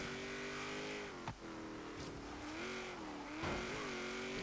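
A 1979 Chevrolet Camaro Z28 engine roars in Forza Horizon on an autocross course, a steady loud drone with pitch dips and rises as the throttle is worked, with brief tire squeal on the oversteering car.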